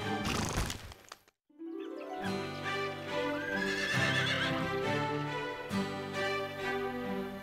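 A cartoon horse lets out a loud, drawn-out whinny that rises and falls, set against animated-show music and a brief hoof clatter near the start.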